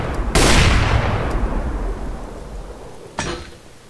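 Two loud booming sniper rifle shots ring out in Minecraft's Minestrike mode, the first a big blast with a long rumbling tail, the second sharper and shorter about three seconds later, with no voices.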